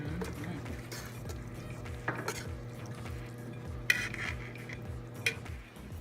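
Enchilada sauce being stirred into a plant-based meal in a pan, a spoon scraping and clinking against the metal in a steady rhythm, with a few sharper knocks, close up and moderately loud over a low background hum.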